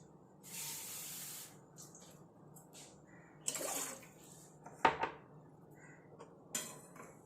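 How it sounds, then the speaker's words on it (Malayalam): About one and a half glasses of water splash and hiss into a metal pan on a stove in a couple of short bursts, with light clinks of cookware in between, close and fairly quiet. "ഒരു പാൻ അടുപ്പത്ത് വെച്ച് അതിനകത്തേക്ക് ഒരു ഒന്നര ഗ്ലാസ് വെള്ളം ഒഴിക്കുക"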